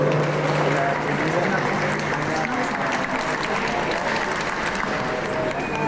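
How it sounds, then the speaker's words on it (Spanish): Steady applause from a seated audience at a pension-fund forum in the Mexican Chamber of Deputies, dense and continuous for the full stretch with faint crowd murmur beneath. "Un aplauso, por favor."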